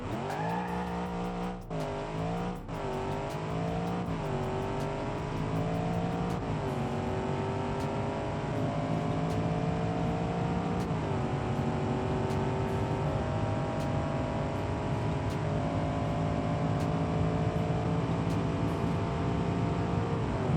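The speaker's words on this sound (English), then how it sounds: "Very torquey engine, very powerful engine, and very exciting" A Mercedes C63 sedan's engine pulls hard through the gears toward top speed, a loud sustained in-cabin roar rising in pitch with brief shift dips early on.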